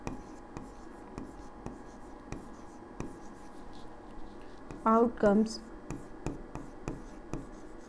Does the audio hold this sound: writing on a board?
yes